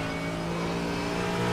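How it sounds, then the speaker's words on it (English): A faster race car comes up from behind during an IMSA race at the Nürburgring in iRacing, a steady loud engine drone with no pause and no voices. "There's a faster car approaching."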